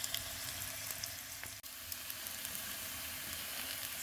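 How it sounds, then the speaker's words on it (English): Potatoes crisping in olive oil over high heat give a steady, dense sizzle and crackle that carries on without a break, apart from one brief dip in the middle, with no talking. "put in a little bit of olive oil and chuck your potatoes in on a fairly high heat, and we want to crisp them up nicely"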